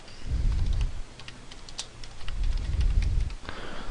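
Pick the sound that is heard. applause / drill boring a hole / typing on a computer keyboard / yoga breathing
typing on a computer keyboard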